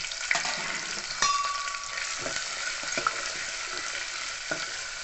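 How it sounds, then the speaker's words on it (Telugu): Green chillies sizzle and crackle in hot oil for a tempering for amla dal, a steady close frying hiss with occasional sharp pops and stirring scrapes, and no talking. "ఈ తాలింపులో ఇలా పచ్చిమిర్చి వేయడం నాకు చాలా ఇష్టం అండి"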